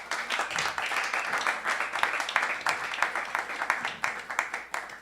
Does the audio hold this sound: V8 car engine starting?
no